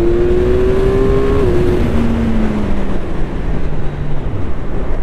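A Kawasaki Ninja 1100 SX sport touring motorcycle accelerating at about half throttle, its engine roaring loudly and steadily, pitch shifting as gears change, with heavy wind noise rushing throughout.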